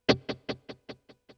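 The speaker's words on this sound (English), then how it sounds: "The pan delay is what Boss call their ping pong delay." A single plucked guitar note through a Boss GX-100 ping pong delay repeats about seven times in an even rhythm, bouncing between speakers, each echo quieter than the last as the delay fades out.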